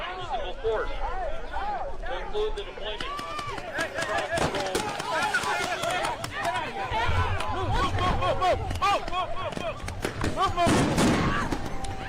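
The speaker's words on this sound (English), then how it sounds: "pelted people with flashbangs and fucking what are those tear gas bullets?" Flashbangs and tear gas rounds fired at a crowd, sharp sporadic bangs and pops over a busy, clamorous mix of shouting voices and running feet, with a louder burst near the end.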